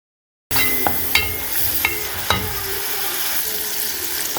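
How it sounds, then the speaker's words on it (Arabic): Grated onion sautés in fat in a pan, starting after a brief silence with a bright steady sizzle punctuated by a few sharp spoon taps against the pan, close and without talk. "هنبدا نشوح البصله زي ما احنا شايفين"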